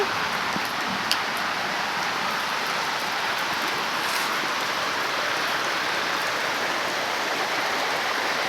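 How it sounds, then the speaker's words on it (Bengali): Heavy rain falls on a village with no wind, a constant even hiss of countless drops that holds steady and fairly soft throughout, with only a faint tap or two standing out early on. "প্রচণ্ড পরিমাণ বৃষ্টি নেমেছে দেখেন বেশি বাতাস নেই শুধু শুধু বৃষ্টি হচ্ছে"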